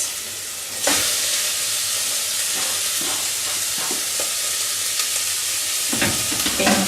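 Carrots, potato and pepper fry in hot oil in a pan, a loud continuous close sizzle and hiss with occasional stirring scrapes and a louder burst of crackling near the end.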